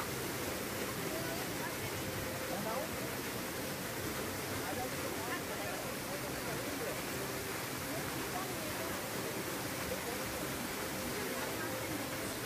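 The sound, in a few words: Bamni Falls waterfall, water falling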